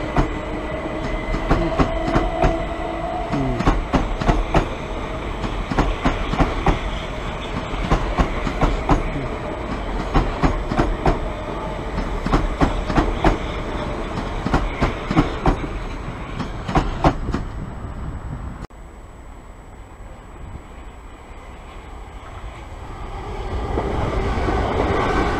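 Trains passing at Purley station, with loud rolling rumble and rhythmic clickety-clack of wheels over rail joints for most of the stretch, then quieter ambience before a rising rumble near the end.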